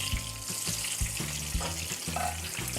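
Eggplant pieces sizzle and crackle steadily in hot oil in a pan, with soft repeated thumps of the pieces being set down one by one; close and fairly quiet, with no talking.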